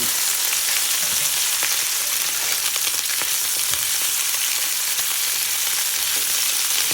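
Potatoes and peppers sizzle steadily in a hot pan, a close and constant crackle with small pops scattered through it and no voices.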